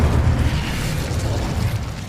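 A fiery Incendio spell blast in Hogwarts Legacy, a steady loud roaring burst of flame with heavy low rumble that sustains for about two seconds without letting up, no voices over it.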